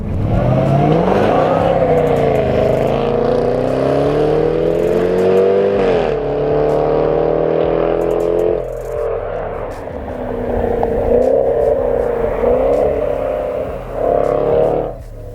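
A 2022 Jaguar F-Pace SVR with supercharged V8 accelerating hard, revs climbing through several upshifts with brief drops between gears, loud and close with a whining supercharger note, fading slightly near the end.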